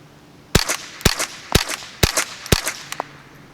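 Five sharp shots from a Ruger 10/22 semi-auto rifle firing 1200 FPS standard velocity rounds into sand outdoors, evenly spaced about half a second apart, each a crisp crack with short ringing decay.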